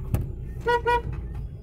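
Two short car horn honks in quick succession, loud and close, over low rumbling street noise.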